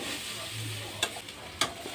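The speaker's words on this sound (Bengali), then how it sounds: "আমাদের বাড়িতে নতুন লোক আলু ভাজছে।" Potatoes fry in a pan with a soft, steady sizzle, broken by two brief clinks of a utensil stirring against the pan.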